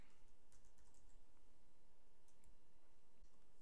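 Quiet typing on a computer keyboard while building a WordPress page: scattered light key clicks at a steady pace, close but faint over a constant low hum, with no talk.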